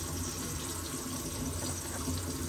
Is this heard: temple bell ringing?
no